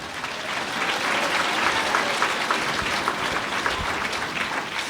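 A church congregation claps loudly and continuously, a dense wash of hands with a few sharper claps standing out, sustained without talk.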